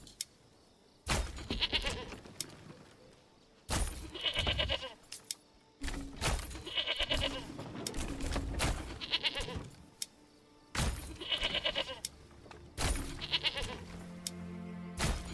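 Goats in the medieval city-building game Manor Lords give repeated loud, close bleats in irregular bursts over a continuous background, with no voices.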